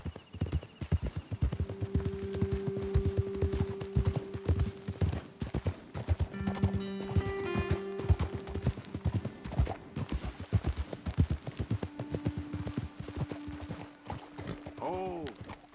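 Horses' hooves clip-clop steadily on a trail in the video game Red Dead Redemption 2, close and continuous, with a whinny near the end and voices talking over parts of it.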